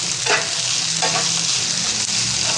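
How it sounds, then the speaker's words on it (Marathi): Onion sautéing in a pan, a continuous loud sizzle of frying with a few soft scraping strokes as it is stirred, close up and with no talk. "आता त्याच्यामध्ये मी हा कांदा घालणार आहे, कांदा पण आपण ह्याच्यावर परतून घ्यायचा आहे"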